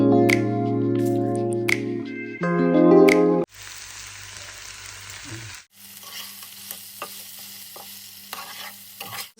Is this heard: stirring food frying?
yes